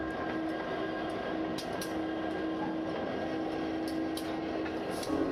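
Clarendon & Pittsford Railroad freight train, westbound 264, at night, idling and waiting on the line, giving a steady low rumble with a sustained engine hum and faint scattered clanks, no voices.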